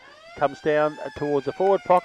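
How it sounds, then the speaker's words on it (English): A steady siren sounds to end an Australian football match at Keith Barclay Oval, North Geelong, between North Geelong and Belmont. It holds on one pitch throughout, with a commentator talking over it. "that's the siren sounds to complete this game at the Keith Barclay Oval"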